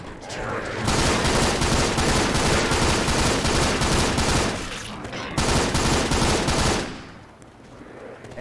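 Sustained machine-gun fire from the Left 4 Dead video game hammers loud and nearly continuous, briefly dipping before another long burst, then fading out.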